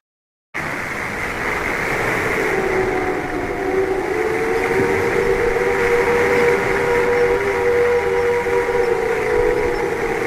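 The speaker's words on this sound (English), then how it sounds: "but then we heard the sound of sirens." Sirens wail steadily in a dramatic scene on a ship, their tones sliding and holding over a loud rumbling background, continuous and fairly near after a brief silent start.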